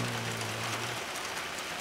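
Spring rain falls steadily around a farm with azalea-covered hills nearby, a soft continuous hiss of drops filling the whole moment with no voices over it.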